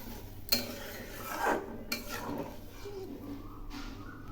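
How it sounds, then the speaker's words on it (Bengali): A fish curry of small bhagna fish with ridge gourd being stirred in a pot after about two cups of water are added, giving a few soft scraping and clinking spoon strokes against the pot over a low background. "2 কাপ মতো জল দিলাম, একটু নেড়ে দিচ্ছি"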